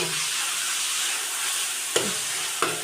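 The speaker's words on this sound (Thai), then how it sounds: "ผัดหมูให้นสุกกัน หมูก็เริ่มจะ ได้ สุกมากแล้วเนาะพี่น้อง" Marinated pork stir-fried for pad see ew, a continuous close sizzle with two sharp scrapes of the spatula near the end.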